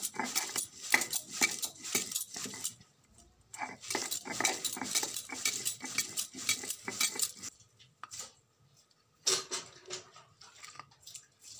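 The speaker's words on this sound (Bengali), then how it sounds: "রসুনটা বাটা হয়ে গেছে, এবার আদাটা বেটে নেব।" Garlic being ground into paste for chicken curry, rhythmic scraping and grinding strokes in close bursts separated by short pauses, with a few clinks near the end.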